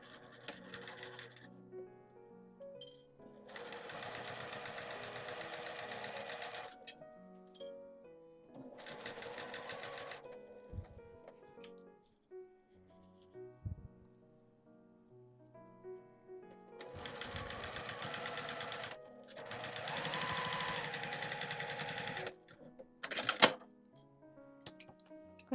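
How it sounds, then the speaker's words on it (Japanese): Sewing machine stitching a clear pocket pouch, running in several loud bursts of rapid needle chatter separated by quieter pauses with fabric handling. "ミシンで押さえて縫います。"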